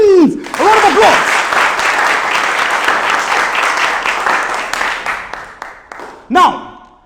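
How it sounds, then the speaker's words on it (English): Studio audience applause on a quiz show after a correct answer, a steady wash of clapping that fades toward the end, with voices calling out over it and a brief cheer near the close. "A round of applause."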